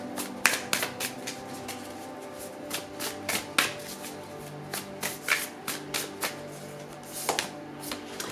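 Tarot and oracle cards are shuffled close up in a series of crisp riffling and slapping bursts, irregularly spaced over several seconds, with no talking.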